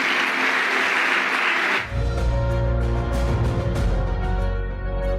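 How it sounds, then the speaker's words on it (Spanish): Applause at a church service fills the first couple of seconds as a dense, loud clatter of many hands. It then gives way to loud sustained music that continues to the end. "Denle un aplauso al Rey."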